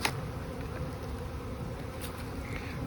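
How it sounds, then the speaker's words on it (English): Honey bees from a locally raised colony buzzing steadily around an overwintered nuc hive, a dense continuous drone with no talk over it. "So these are local bees"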